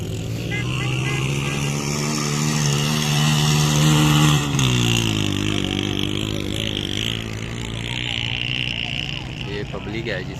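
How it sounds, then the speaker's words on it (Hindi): A motorcycle arriving at a desert rally in Cholistan, its engine droning and shifting pitch as it approaches and revs. Someone talks over it throughout, and a crowd murmurs in the background. "और ये बाइक आ रही है जी नई, एक और रैली के लिए।"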